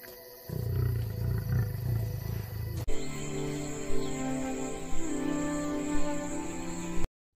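A lion roars in the wild, a deep, resonant call rising over a low rumble and repeating in several loud bursts against a faint insect-like background.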